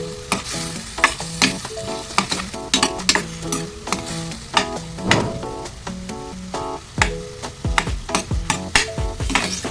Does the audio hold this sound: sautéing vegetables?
yes